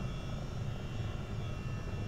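Chinook CH-47D twin-rotor helicopter in flight in the Microsoft Flight Simulator 2024 game, a constant dense engine and rotor drone at steady level, no voices.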